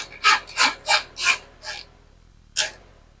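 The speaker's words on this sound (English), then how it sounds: "Again, I'm using the ratchet wrench." A hand ratchet wrench tightens bolts holding a tank during a starter rope replacement, giving five quick rhythmic rasping strokes close by, a short pause, then one more stroke.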